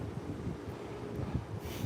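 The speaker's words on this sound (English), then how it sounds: "Man, it's windy out here" Low, rumbling gusts of wind buffeting the microphone outdoors, uneven and blustery over a brief stretch.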